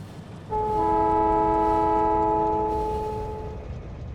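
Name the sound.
train running in the video game Factorio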